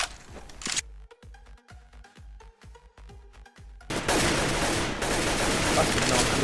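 Rapid gunfire from a CS:GO round of pre-firing corners: a burst of roughly a dozen sharp, close shots in quick rhythm, then a loud wash of noise afterward.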